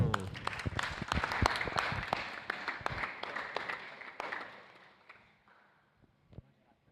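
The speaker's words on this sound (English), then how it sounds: "In first place, a round of applause for Abdul" An audience at a Teleios Dome VGP event applauds a first-place winner. Brisk, dense clapping is loud at first, then thins and fades away over several seconds, leaving a few last scattered claps.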